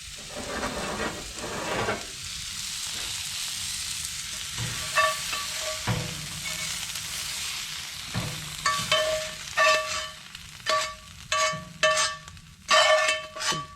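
Rabbit fajitas sizzle loudly in a pan inside a cabin, a constant frying hiss broken by bursts of scraping and clattering as the meat is stirred, with no talking.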